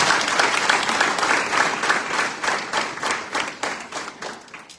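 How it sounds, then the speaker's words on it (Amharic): An audience at a church conference session in Ethiopia bursts into sustained applause, dense clapping from many hands filling the room at steady strength before gradually tapering off. "please clap for your neighbor"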